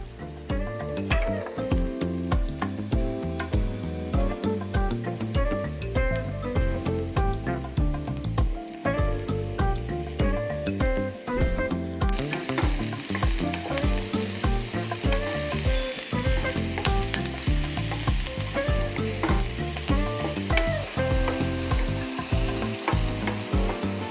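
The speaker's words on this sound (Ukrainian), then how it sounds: "Смажимо до ось такої скоринки і потім додаємо наші гриби." Continuous sizzling and crackling of mushrooms frying in a hot pan, steady and close, with no one talking.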